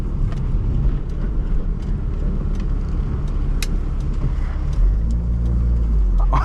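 Fiat Uno car heard from inside the cabin as it accelerates smoothly, a steady engine drone and road rumble that builds slightly toward the end, with no talking.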